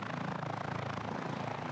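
Helicopter hovering or flying during Mexican wolf collaring operations in Arizona, a steady continuous rotor and engine drone that holds at a constant level throughout, with no talking.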